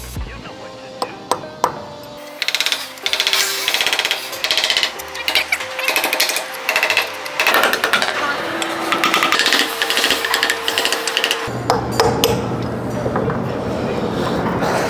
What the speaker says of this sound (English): take out your bolt and your pins, take your punch